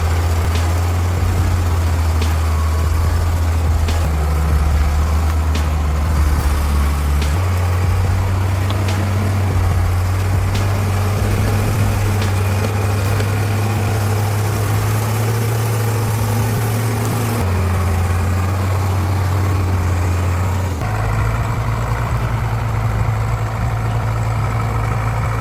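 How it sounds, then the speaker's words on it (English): A heavy mountain truck hauling acacia wood labours on a muddy road, its engine giving a deep, loud, continuous drone that shifts pitch a few times as it revs, with no talking. "A war horse carrying acacia wood was roaring and writhing on the muddy road."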